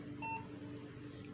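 A desktop computer CPU with a power fault gives one short, clear electronic beep at power-on while its light blinks once, followed by a steady low hum.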